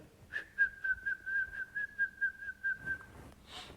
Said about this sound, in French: Il est en train de siffler.